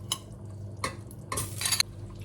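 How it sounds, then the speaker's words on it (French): Butter melting in a hot saucepan for a béchamel, a soft sizzle with a few utensil scrapes and clinks against the pan, close and fairly quiet. "Ma casserole est chaude, je fais fondre le beurre."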